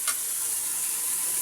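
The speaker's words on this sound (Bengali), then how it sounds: "পাশের চুলায় আমার এখানে কলা কচু পাতাটা ভাজা হচ্ছে।" Taro leaves fry in a pan on a stove, giving off a steady, close hiss of sizzling oil that barely changes across a short stretch.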